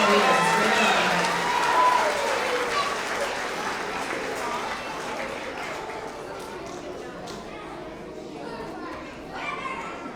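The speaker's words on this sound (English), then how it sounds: "let's have another round of applause for all of our first and second grade Roaring readers" A school assembly crowd applauds for first and second grade readers, loud clapping mixed with children's chatter and movement that fades into a softer murmur of kids talking.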